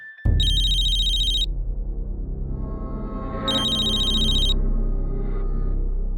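A phone ringback tone sounds twice as an outgoing call rings, each long electronic burst separated by a pause, with a low hum underneath.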